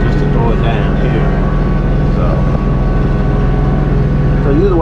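Steady, loud diesel drone of a Kubota B2650 compact tractor running continuously while mowing overgrown land, with a constant low engine hum and slight variations in load throughout.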